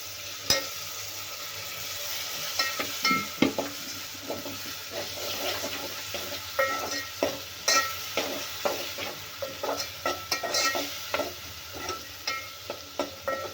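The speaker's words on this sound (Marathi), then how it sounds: "टोमॅटो पण आपल्याला तेलामध्ये भाजून घ्यायचं आहे नरम गाळ होईपर्यंत भाजायचं आहे" Chopped tomatoes frying in hot oil with red chilli powder for a festive Maharashtrian puran poli thali, a soft steady sizzle broken by a regular rhythm of spatula strokes scraping the pan, close by, with no talking.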